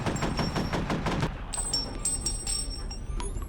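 Gunfire in the video game F.E.A.R., a rapid burst of heavy automatic shots followed by a ringing synthesized electronic tail with high tonal bleeps, loud and close with no talk.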